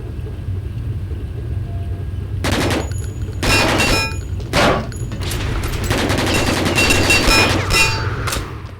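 Gunfire in the video game Hellforces, with several loud bursts of shots over a steady low rumble, the later bursts running together into a dense, sustained volley.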